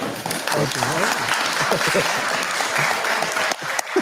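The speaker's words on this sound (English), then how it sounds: "I didn't know they were allowed to applaud." An audience claps steadily in a dense, sustained round of applause, with voices talking over it.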